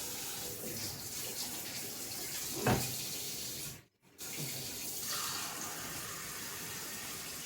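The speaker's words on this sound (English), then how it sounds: "we're going to put a little water in there." Tap water runs into a measuring cup in a home kitchen while chicken and dumplings are being made, a steady broadband splashing flow with a brief louder gush and a short cutoff near the middle before the stream resumes.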